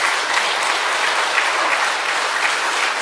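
Church congregation at an evangelistic revival meeting clapping together, dense even applause filling the whole stretch with no voices on top.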